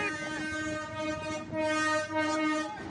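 A train passing close by in Calamba, Laguna, with a loud sustained horn-like tone and rumbling wagons running steadily for a few seconds.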